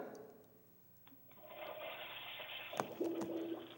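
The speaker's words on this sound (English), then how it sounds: "I thought we were going to make it through one show without the toilet flushing" A toilet flushes over a radio call-in phone line, a sustained rushing wash of water that swells after a quiet start and carries on to the end, with a few clicks and knocks.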